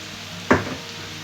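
Chopped button mushrooms hit a frying pan of glazed onions with a single sharp clatter and short sizzle, close and brief, then quiet frying continues underneath.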